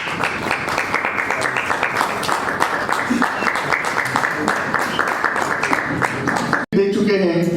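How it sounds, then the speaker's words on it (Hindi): Sustained audience applause welcoming a guest on stage at a Marathi album launch, a dense crackle of many hands clapping that continues steadily, then cuts off abruptly as amplified speech and music take over. "आप सभी लोगों से रिक्वेस्ट करूंगा कि जोरदार तालियों से उनका स्वागत कीजिए"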